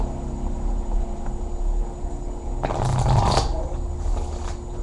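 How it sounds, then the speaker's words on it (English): A short burst of cards being shuffled, a quick riffle rising out of a steady low hum and then fading back to background noise. "Okay, I'll shuffle it one more time."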